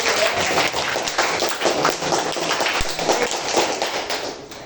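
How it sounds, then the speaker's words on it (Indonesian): Clapping from a seated audience at a school guidance talk, a continuous patter of many hands with small taps and thuds mixed in, moderately loud and steady throughout. "tepuk tangan untuk Mas David"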